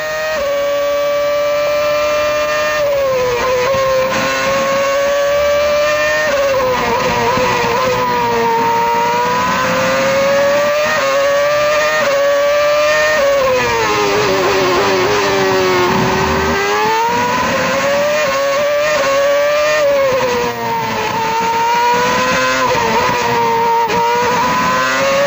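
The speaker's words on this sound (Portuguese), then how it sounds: "Aí você vai na câmara on board do carro com o Felipe Massa." Onboard sound of a Formula 1 car at the 2007 Hungarian Grand Prix: a loud, high engine whine climbing and falling through gear changes for the whole stretch, with no speech over it.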